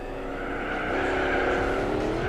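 Race car in Gran Turismo 4 on an endurance run at Laguna Seca, engine droning loud and rising in pitch as it climbs through the revs, with an upshift.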